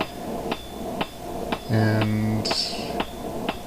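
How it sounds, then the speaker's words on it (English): A fairly heavy blacksmith's hammer strikes a slim hot cut on hot metal, giving sharp, evenly spaced blows about twice a second, about eight in all, with a brief ringing tone between some strikes. "I'm using a fairly heavy hammer here"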